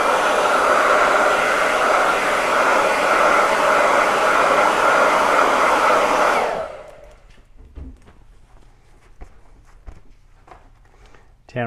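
A hair dryer blows steadily and loudly while drying a handmade Christmas saw decoration, then switches off, leaving quiet room sounds with faint knocks and brief movement.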